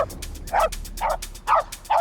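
A dog barks in a frenzy, four loud, sharp barks in quick succession, close by and alone.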